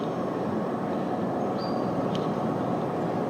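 A train runs on a line through the middle of the La Sella golf resort, heard as a steady, broad rumbling wash with no speech and a few faint high squeals over it.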